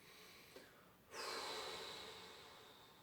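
Deep breathing during a back and abs workout session: a brief sniff, then a long, loud exhale that slowly fades away, heard close and alone with no talk.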